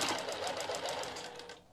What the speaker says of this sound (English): that's kind of the benefit of doing it on your sewing machine